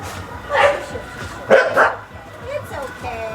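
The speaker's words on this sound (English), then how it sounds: "I'm so happy to see happy dogs" A dog at an elephant sanctuary in Unawatuna, Sri Lanka barks twice in short bursts close by, followed by softer yips, with a person talking in between.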